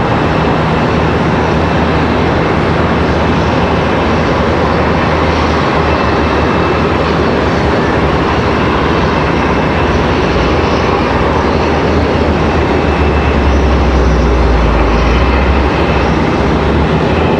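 An American Airlines Airbus A321 arriving at Charlotte Douglas from Chicago, a loud, steady engine roar that swells with low rumble toward the end, no talking over it.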